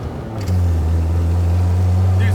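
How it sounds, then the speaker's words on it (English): A Toyota All-Trac car idles close by with a low, steady droning exhaust rasp that settles into an even hum after a brief step up in level, while voices come through faintly. "It's got the little rasp, but it's like a quiet rasp."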